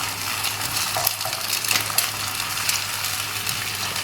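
Egg frying in a pan for Maggi goreng sizzles steadily, with light scraping and tapping as it is spread into a thin layer, and no talk.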